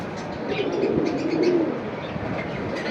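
Pigeons of the kind called Napta coo steadily in a loft, with soft overlapping coos and faint chirps over a constant low background hum.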